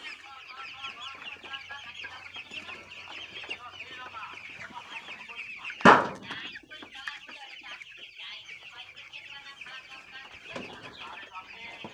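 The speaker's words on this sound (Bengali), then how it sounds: "দর্শক, মুরগিগুলো দেখতে অনেক সুন্দর লাগছে, খেলা খেলতেছে, খাইতেছে, কেউ পানি খাইতেছে" Sixteen-day-old broiler chickens cluck and chirp continuously in a poultry shed under a heater, a dense steady flock chatter with one sharp loud knock midway.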